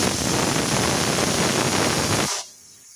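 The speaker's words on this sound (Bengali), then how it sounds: "প্রেশার কুকারে শীষ ওঠানো হয়ে গেছে" A pressure cooker cooking flat beans with green chilies vents a loud, steady rush of steam for about two seconds before it cuts off abruptly.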